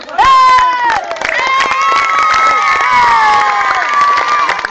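A school crowd cheers and shouts loudly, children's voices rising in a sustained roar with some clapping mixed in throughout.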